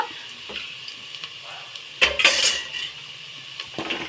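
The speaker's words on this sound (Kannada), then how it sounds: "ಇವಾಗ ಕುಂಬಳಕಾಯಿ ಹಾಕೊಳ್ಳೋಣ ಇವಾಗ ಎಲ್ಲ ಚೆನ್ನಾಗಿ ಮಿಕ್ಸ್ ಮಾಡ್ಕೊಬೇಕು" Pumpkin pieces tipped into a pan of fried onions and stirred for Kannada-style kumbalakayi palya, with a louder clatter of utensil against pan midway over a steady low sizzle; no talking.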